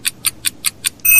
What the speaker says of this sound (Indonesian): Kring, alarm berbunyi.